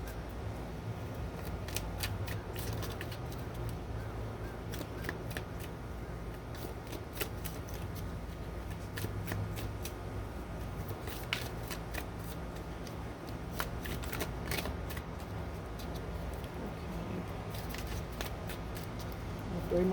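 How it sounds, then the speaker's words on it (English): Tarot cards shuffled for a reading give a steady, soft, close riffling and slapping that runs unbroken throughout, fairly quiet and with no talking. "3 more shuffles."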